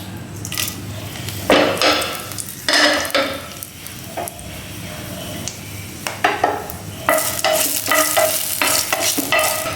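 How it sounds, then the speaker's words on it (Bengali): A torn bay leaf and two dried red chillies hit hot oil in a pan, sizzling and crackling loudly up close, with repeated scraping and clanking of a spatula stirring against the pan. "তো আমি দিয়ে দিচ্ছি প্রথমেই একটা তেজপাতা ছিঁড়ে, তারপর দিয়ে দিচ্ছি দুটো শুকনো লঙ্কা"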